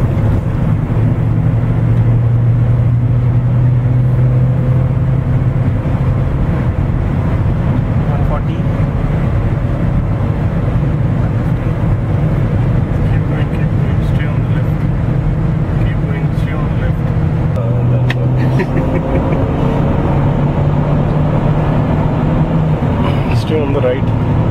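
A Mercedes B-Class accelerates hard on a race track with its engine at full throttle, a loud steady roar heavy with wind rush, and a voice talks over it throughout.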